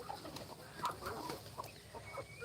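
Backyard laying hens cluck softly and intermittently, with short chirping calls, faint and fairly distant, amid quiet outdoor background noise and no talking.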